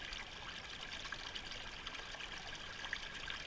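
Water runs steadily through a gold sluice fitted with a Dream Mat, a faint, even trickling and rushing flow with small splashy flickers throughout.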